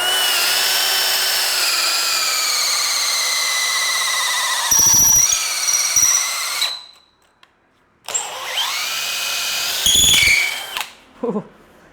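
A DeWALT DCD999N cordless brushless hammer drill runs in gear 2, a loud high whine that bores in, grinds and shudders, stops, then spins up again for a second burst before cutting out.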